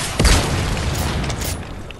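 An RPG rocket explodes in Fortnite, a deep booming blast that hits early and rolls into a sustained rumbling tail with faint crackles over about two seconds.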